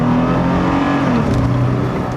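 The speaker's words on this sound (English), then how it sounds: "See what I mean about the sound of this engine?" Inside a 2018 Toyota 4Runner, the engine hums loud and steady with a slightly edgy drone, rising a little in pitch as it pulls. No talk is heard over it.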